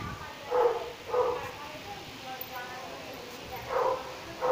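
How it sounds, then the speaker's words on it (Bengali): A dog barks a few times in the dark outside a village house, the barks moderately distant and spaced about a second apart, with a steady background hiss. "কুকুরটা এখনো ঘেউ ঘেউ করে ডেকে যাচ্ছে।"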